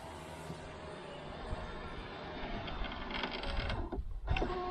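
Power window motor in the door of a 2002 Chevy Avalanche driving the glass along its regulator, a close mechanical whir and grind that builds through the second half, ending in a brief clunk.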